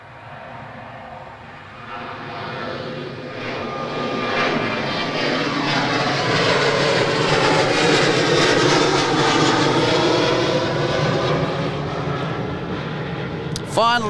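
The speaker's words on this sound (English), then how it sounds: "Finally, we've got a plane!" A fixed-wing airplane takes off on a short runway at Adelaide Airport, its engine roar building from a moderate rumble into a loud, sustained broadband drone that holds steady, with voices faintly audible beneath.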